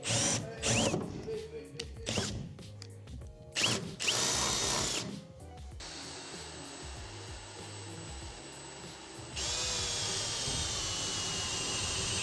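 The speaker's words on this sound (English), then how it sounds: "so I'm just gonna start drilling." A power drill bores into the steel roof of a Nissan S13 being cut off for a carbon fibre roof: loud, close whining bursts that stop and start, then settle into a long steady grinding run.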